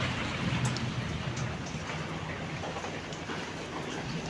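Rain falling on a house, a steady, dense hiss of downpour that holds at an even level throughout, with no voices.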